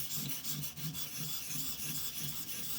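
A Kershaw Shuffle knife blade of soft, cheap steel stroked on a ViperSharp precision sharpening system to raise a burr, giving steady, close raspy rubbing passes in an even back-and-forth rhythm with no voices.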